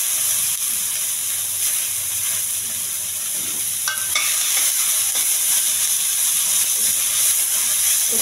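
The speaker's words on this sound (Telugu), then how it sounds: "కొంచెం దోరగా వేగిస్తానండి." Onions, cumin, curry leaves and green chilies frying in oil, giving a loud, continuous close hiss and sizzle with occasional faint stirring clinks.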